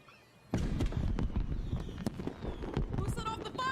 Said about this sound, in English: Who set off the fireworks?